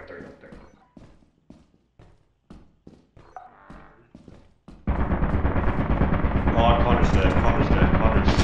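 Automated turrets in Lethal Company open fire in a sudden, sustained burst of rapid, loud gunfire after a stretch of sparse thumps and a brief exclamation.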